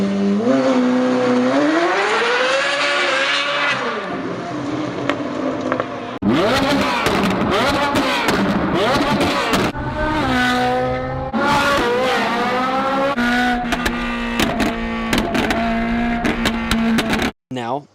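A naturally aspirated V8 revs hard and sounds like an F1 car on the road, its high harmonic pitch climbing and falling through repeated sharp throttle blips. The engine stays loud and close throughout, with no speech.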